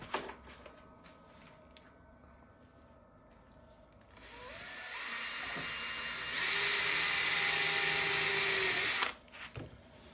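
A power drill whirs up close, drilling into a center-punched mark, starting low and then revving louder and higher in a steady run before cutting off abruptly; no one speaks.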